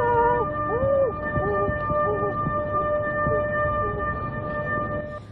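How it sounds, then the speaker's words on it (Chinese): A memorial alarm siren marks the 2:46 pm anniversary moment of the 2011 Great East Japan earthquake, its steady wailing tones sustained loudly over the whole stretch with rising and falling pitch swoops and low background rumble. "警报响起了。"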